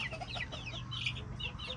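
Chickens cluck and chatter softly close by, a scatter of short throaty calls over a low steady hum.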